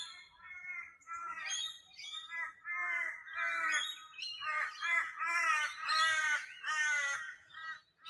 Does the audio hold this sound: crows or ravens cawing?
yes